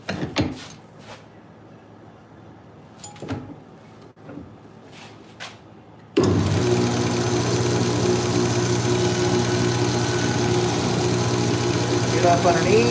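A belt grinder runs up to a steady loud whirring drone as it sands the carbon fiber handle of a knife, starting abruptly after a stretch of quieter shop clatter and handling noises, continuous and close.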